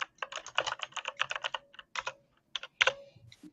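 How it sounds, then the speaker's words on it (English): A loud, clicky tactile computer keyboard being typed on close up, with rapid bursts of sharp key clicks separated by short pauses, no talking. "Jonah, do you have one of those annoying high volume, loud, tactile, clicky keyboards"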